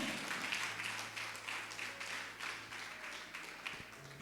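Congregation applauding during a church service, a steady dense wash of clapping from many hands that continues throughout, with a low sustained organ or keyboard tone underneath.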